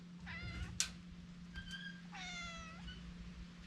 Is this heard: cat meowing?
yes